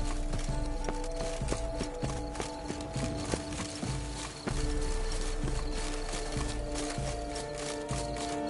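Horse hooves clip-clop at a steady walking rhythm in The Witcher 3, moderately close over a quiet ambient game background, with no talking.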